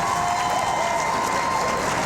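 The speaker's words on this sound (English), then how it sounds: "I think they deserve a big round of applause" Sustained applause from a crowd, dense steady clapping with some cheering mixed in, loud and continuous throughout.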